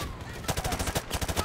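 A mounted turret machine gun in Modern Warfare Remastered rattles off a steady, rapid burst of loud, evenly spaced shots.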